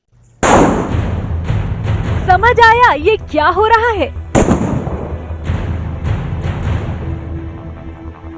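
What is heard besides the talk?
gunshots fired from a shoe in a viral video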